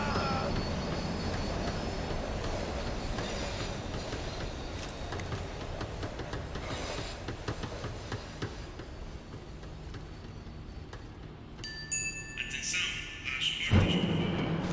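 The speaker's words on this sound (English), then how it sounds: "The tram was slowing down, and I'd only just gotten on board." A tram slowing down in Max Payne 3, a dense steady rumble of wheels and carriage noise that fades near the end, with a few brief tonal squeals and a thud as it comes to a stop.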